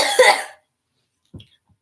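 A single harsh cough bursts out up close at the start and fades within half a second, followed by a quiet pause and a faint low throat sound, all in a casual podcast room.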